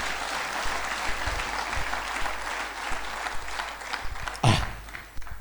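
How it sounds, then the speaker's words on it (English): A church congregation applauds at a steady, moderate level throughout, a broad wash of clapping from many hands with one louder burst near the end. "Can you clap for Jesus?"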